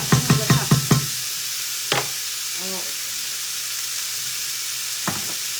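Coconut milk simmering with jackfruit and fish in a pan gives a steady, close sizzling hiss throughout, with a quick run of utensil clinks at the start and a few single knocks later.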